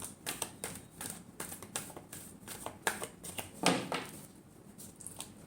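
A deck of tarot cards is shuffled up close in a quiet room, giving a rapid, soft riffling and patter of cards with brief, sharper slaps in between.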